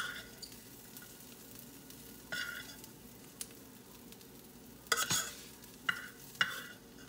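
A potato fajita fries in a pan with onions and peppers, a low steady sizzle broken by a few sharp stirring scrapes and clatters near the end, close and fairly quiet, with no voices.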